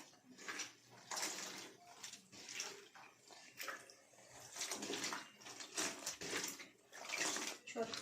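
Paal mushrooms being rinsed by hand in water in a kitchen, with uneven bursts of splashing and sloshing at close range that come and go in short waves.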